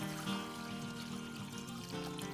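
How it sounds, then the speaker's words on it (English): Water pours into a glass bubble bowl for a calla lily arrangement, a continuous close trickle whose pitch shifts slightly as the bowl fills, heard alone without talk. "just add water."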